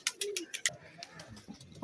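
Pigeons coo softly with low, rolling calls on a rooftop, along with a few sharp taps and rustles nearby, all fairly faint.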